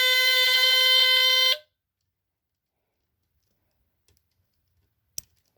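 A Dicon 200 smoke detector sounds a piercing steady alarm tone that stops abruptly after about a second and a half, followed by near silence and a single faint click.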